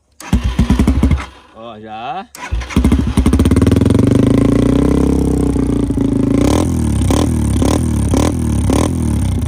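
A Yamaha TTR 230 motorcycle with the muffler insert removed cranks and fires up close by, then settles into a loud, rough idle broken by repeated sharp revs, after brief talk at the start.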